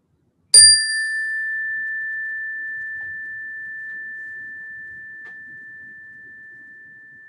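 A meditation chime struck once, giving a bright, clear ring that sustains and slowly fades over several seconds in a quiet room with no talking.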